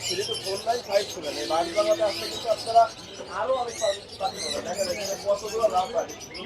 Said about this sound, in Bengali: প্রচুর পরিমাণে পাখি আছে আলহামদুলিল্লাহ